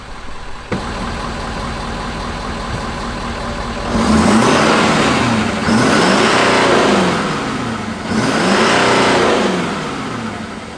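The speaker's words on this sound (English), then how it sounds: "Let's give it some revs to see how it sounds too, okay?" A 100k-mile Ford F350 Powerstroke diesel idles, then gets three long revs that rise and fall in turn, close and loud, with no one talking.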